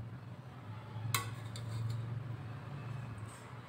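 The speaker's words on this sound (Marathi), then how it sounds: "आता हा भात मी डिशमध्ये काढत आहे।" Cooked veg dum biryani rice is served from a pressure cooker into a dish: one sharp utensil clink, then a few faint metallic taps and scrapes over a low, steady kitchen hum.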